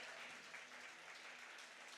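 A church congregation applauds in a continuous, even wash of clapping, faint and somewhat distant, with no distinct voices standing out.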